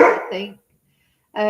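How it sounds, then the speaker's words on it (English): A pet dog gives a short close bark over a voice, followed by a pause and another brief bark-like burst. "that's the dog making her comment as usual"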